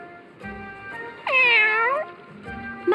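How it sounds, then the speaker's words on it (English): A cat meows in the video game Bravely Second: End Layer, one long, loud, rising-and-falling meow set against soft background music, followed by a brief, quieter chirp at the end. "what's with the cat?"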